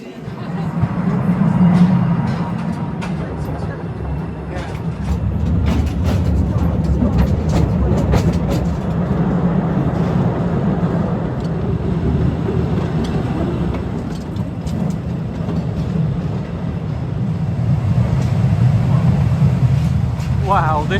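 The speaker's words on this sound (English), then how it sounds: "Okay, I think we're now waiting on another train." A cave train in Slovenia rumbles into a station, a loud sustained low roar with faint wheel clatter and clicks building and easing across the span, while a crowd of people chatters throughout.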